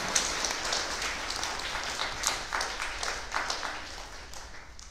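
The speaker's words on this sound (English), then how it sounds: "Round of applause." Moderately faint, steady audience applause at a GCSE and A-level awards ceremony for students of Mulberry Girls School in London, clapping without speech.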